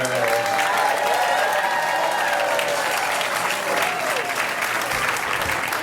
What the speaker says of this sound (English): Stop clapping now, okay?